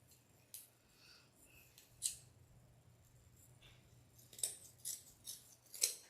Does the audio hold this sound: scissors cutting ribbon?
yes